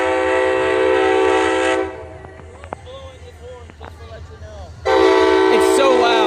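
A train passes loudly with long horn blasts at the start and end, and a quieter stretch of clanking wheels and rail squeals between them as it switches tracks.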